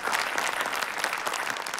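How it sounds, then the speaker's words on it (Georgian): A studio audience at a televised singing show claps steadily, producing a dense, continuous burst of applause that stays even and fairly loud throughout. "ისედაც აპლოდისმენტები"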